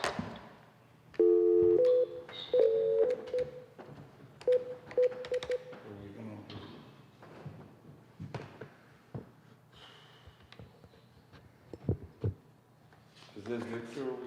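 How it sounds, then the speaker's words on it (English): A phone line at a city commission meeting fails to connect: a series of dialing tones and a short multi-tone error signal sound, followed by sparse clicks, rustles and room noise, with speech-like sounds in the background. "Your call cannot be completed."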